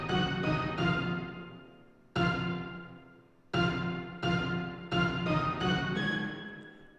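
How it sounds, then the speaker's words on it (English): Layered orchestra hit notes from a BBC orchestral plugin, made for drum and bass, played as a sequence of rich sustained stabs at a varied rhythm, fairly quiet, with no voice over them. "So we can add this orchestra thing that we just made here"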